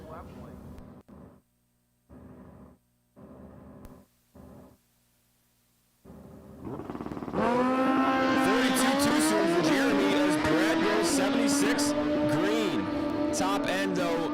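A snowmobile in the right lane and a motorcycle in the left lane launch side by side at Empire Dragway. Several short engine revs give way to a loud, sustained, rising high-revving roar that fills the rest of the run.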